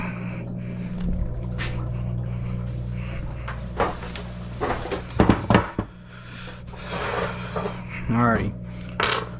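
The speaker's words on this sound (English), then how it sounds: "So now I'm gonna get a little punch to punch this pin out and take the gear off." A small punch knocking a pin out of a billet distributor gear, heard as a short cluster of sharp metallic taps in a quiet workshop, with a brief spoken word.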